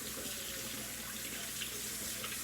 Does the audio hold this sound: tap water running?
yes